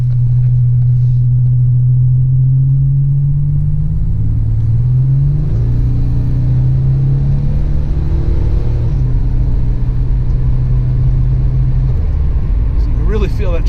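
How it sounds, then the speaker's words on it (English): Small turbocharged six-cylinder car accelerating, a steady engine drone rising in pitch and pulling hard, loud and close throughout with a broad rumble underneath. "Really feel that turbo kick in"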